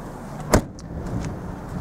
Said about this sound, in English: So just pulling that lever there, and easy as that, you can drop the seats down.